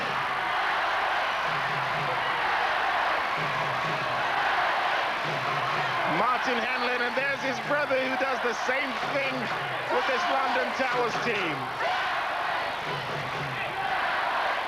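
A basketball crowd at a 1996 Worthing Bears versus London Towers 7up Trophy game roars and cheers with a fan leading the noise, a constant loud din beneath a commentator talking over it.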